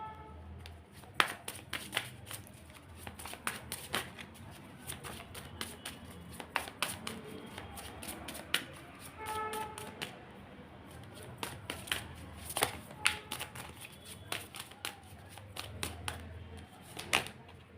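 Tarot cards being shuffled and handled produce soft, rapid flicks and taps in bursts, with brief pauses between them and faint background voices.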